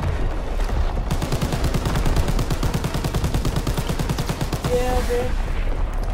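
Dense, rapid gunfire with artillery booms rattles on without pause in Call of Duty: WWII, loud throughout, while a player speaks briefly over the battle.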